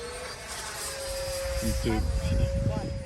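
A Freewing F-86 Sabre radio-controlled jet with an 80mm electric ducted fan and a new power system flies past with a steady whooshing whine under wind noise. Someone talks over it.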